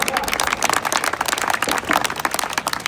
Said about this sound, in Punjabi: ਤਾੜੀਆਂ ਮਾਰ ਕੇ ਆਪਣੀ ਟੀਮ ਦਾ ਮਾਣ ਵਧਾਓ